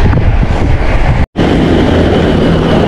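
Loud, constant wind roar buffeting the microphone while cycling on an 80 km gravel ride, a dense rumbling rush with one brief dropout midway.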